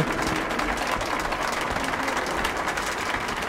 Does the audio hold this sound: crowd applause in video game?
yes